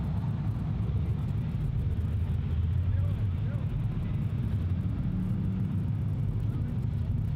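At a drag strip diesel shootout, a truck in the staging lane gives off a steady low engine rumble, with a voice faintly audible over it.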